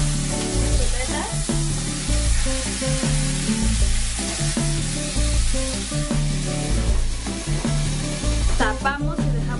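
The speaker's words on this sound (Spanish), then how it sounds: "poner las chuletas a freír" Pork chops sizzle and spatter steadily in a hot pan, a dense close frying hiss with occasional louder pops and utensil scrapes, no talking.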